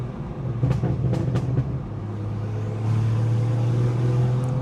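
BMW B58 engine fitted with a big downpipe, its exhaust rumbling steadily up close with a few sharp crackling pops early on, then a deeper, louder drone settling in.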